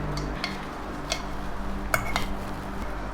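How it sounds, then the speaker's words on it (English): A spoon stirs honey and other ingredients together in a jar, giving off scattered light clinks and scrapes against the glass over a steady background hum. "Then, stir it all together."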